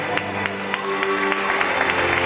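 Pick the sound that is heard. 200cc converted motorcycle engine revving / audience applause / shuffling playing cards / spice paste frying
audience applause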